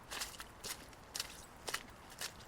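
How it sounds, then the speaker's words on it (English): Several sets of footsteps gather steadily in a dark place, soft shuffling steps repeating at irregular intervals, fairly quiet and without any talk. "you can hear other sets of footsteps gathering around you steadily"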